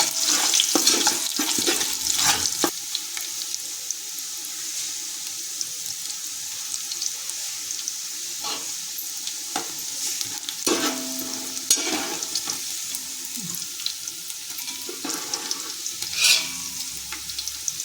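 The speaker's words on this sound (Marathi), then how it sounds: "लसूण आपण हा चिरलेला आहे त्याच्यामुळे हा चांगला भाजून द्यायचा" Chopped garlic roasts in a pan for khamang bhadang, a continuous close sizzle with scattered scraping and stirring clicks throughout, steady and alone without speech.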